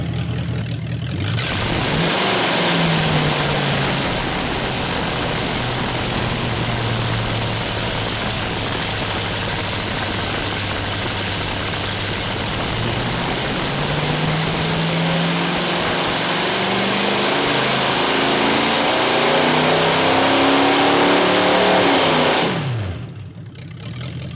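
A junkyard Ford 289 V8 runs on a dyno with its mufflers removed, roaring loud and unmuffled as it revs up steadily, holds near the top and then cuts off abruptly.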